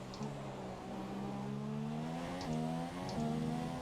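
Formula 1 car engine at full throttle in the F1 2017 racing game at the British Grand Prix, a steady high-revving whine that climbs smoothly with a couple of brief gear-shift dips, heard alone at moderate volume.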